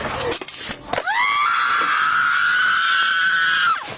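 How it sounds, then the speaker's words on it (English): A person screams loudly in a long, sustained, high-pitched shriek lasting about three seconds after a brief noisy start, with no talking. "You just scream your head off"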